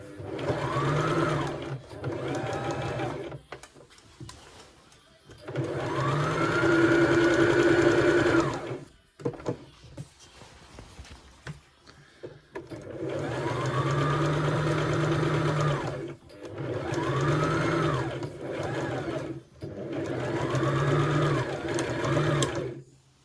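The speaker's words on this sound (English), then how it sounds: "And then just sew down the side of the pocket only." A sewing machine stitches down the side seam of a skirt pocket in several steady bursts of a few seconds each, separated by short pauses. The whirring is close and clear.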